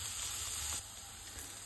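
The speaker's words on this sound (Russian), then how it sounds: "идем жарить лук на растительном масле" Chopped onion frying in vegetable oil in a pan, a soft steady sizzle and hiss, quiet and close, with no talking.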